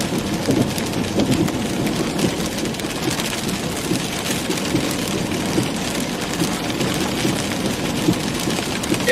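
Heavy rain pounds steadily on a vehicle during a storm chase on a Texas highway, a dense unbroken roar with faint rumbles beneath and no speech.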